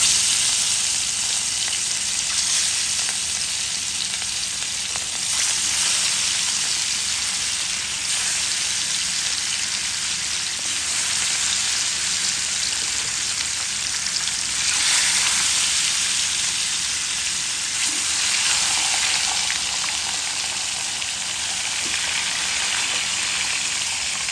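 Marinated karfu fish fries in hot oil with a steady, dense sizzle that hisses continuously and loudly, swelling slightly at moments, with no voices.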